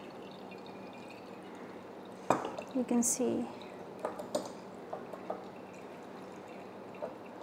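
Electrolyte solution drains from the taps of a glass Hoffman voltameter, bursts of pouring and trickling with glassy clinks starting partway through, then fading drips, while a person talks.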